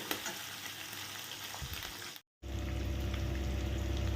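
Cut potatoes fry in a pan on a low flame, giving a soft continuous sizzle with faint stirring scrapes; a brief dropout interrupts it, then the sizzle returns slightly fuller and steadier.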